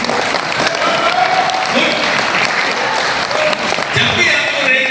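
Loud applause from an audience at a company business update meeting, a dense continuous clatter of clapping hands that fills the whole stretch without letting up.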